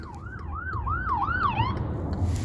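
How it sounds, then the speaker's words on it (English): An ambulance siren wails in a rapid rising-and-falling cycle over rumbling traffic, fairly close, then cuts off. "It's an ambulance coming up."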